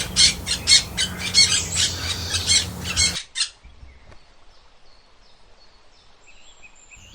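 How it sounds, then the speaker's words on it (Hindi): A budgerigar squawks in a dense, rapid burst of harsh calls for about three seconds, loud and close, then stops abruptly, leaving only faint high chirps in a quiet background. "बे बजरीगर,"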